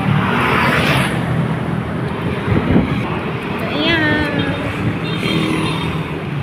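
Busy street traffic with many vehicles passing in a steady broadband roar, close and loud, while people talk over it; brief horn-like tones rise near the middle.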